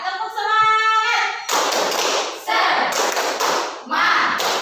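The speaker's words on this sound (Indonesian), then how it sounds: "Tepuk semangat." A classroom of students doing rhythmic 'tepuk semangat' spirit clapping, sharp claps and taps in quick patterned bursts, close and loud, with a voice leading briefly at the start.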